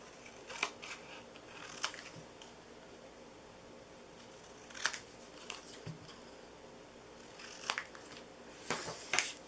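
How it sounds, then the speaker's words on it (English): Scissors cutting paper along traced lines for a candy corn treat box craft, heard as faint, scattered snips and crisp paper rustles spaced several seconds apart in a quiet room. "just cut on the inside of your trace lines"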